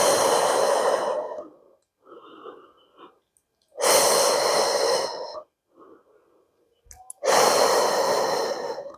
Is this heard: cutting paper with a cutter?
no